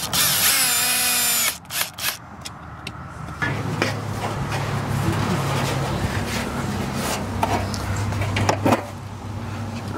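A cordless power drill drives screws into metal J trim on an RV, with a short high whine followed by several seconds of steady grinding driver noise, loud and close, with no talk.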